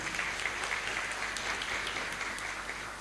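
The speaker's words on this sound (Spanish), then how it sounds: "Bienvenido con un fuerte aplauso." A crowd at a regional education colloquium applauds steadily, a dense, even patter of clapping from many hands that continues throughout.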